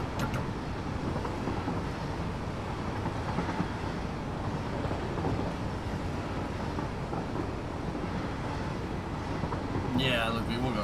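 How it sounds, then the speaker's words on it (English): Train wheels clicking and clacking over rails in the factory-building game Satisfactory, with the locomotive itself inaudible. A dense, steady rumble with a rhythmic undertone runs continuously, heard from onboard. "all you hear is the clickety-clack from the rails"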